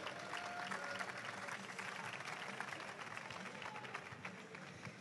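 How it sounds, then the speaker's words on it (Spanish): An audience at a game-development projects event breaks into sustained, dense applause, steady and fairly distant throughout with a faint murmur of voices beneath. "Por favor, un fuerte aplauso para Zoilo."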